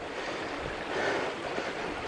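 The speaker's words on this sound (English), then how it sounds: "the water flowing out of the tarn here" Water flowing out of a mountain tarn gives a continuous, even rushing wash, close and fairly loud, with no voices and no breaks.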